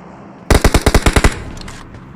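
Gunfire in a PUBG-style battle royale video game, a loud rapid automatic burst of about eight evenly spaced shots, fading into quiet afterward.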